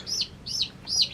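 Young yellow chicks of a dual-purpose meat and egg-laying breed give three quick, high, evenly spaced peeping chirps, close and clear over a quiet background.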